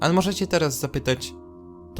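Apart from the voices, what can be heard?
No everyday noises stand out.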